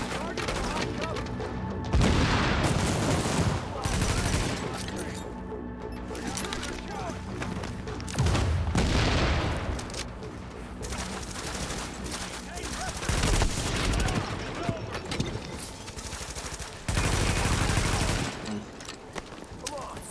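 Turret gunfire in The Division video game comes as repeated loud bursts of rapid automatic fire, several volleys separated by quieter gaps, with mechanical clatter between them.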